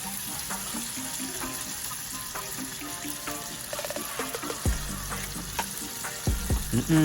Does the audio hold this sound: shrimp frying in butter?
yes